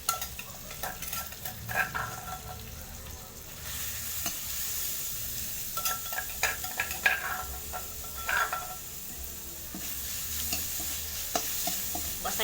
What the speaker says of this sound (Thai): ใส่พริกลงไป เจียวให้มันหอมๆ